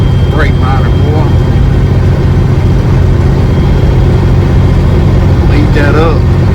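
A semi truck's engine runs under heavy turbo boost while climbing a hill, a loud constant low drone. Someone talks over it throughout.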